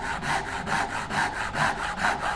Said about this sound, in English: saw up against the side and just cut through.